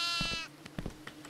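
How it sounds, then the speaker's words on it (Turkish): A sheep bleats in the horror video game Devour, a short wavering cry that opens the moment and fades after about half a second, followed by scattered soft clicks and thumps. "Aa, koyun sesi var."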